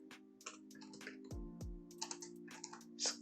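Keys clatter on a computer keyboard during web design work in Figma, with irregular bursts of clicks and a few heavier thumps, close and clear over a steady low electrical hum, with no talking.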